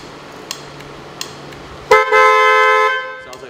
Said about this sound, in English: You hear the horn for the,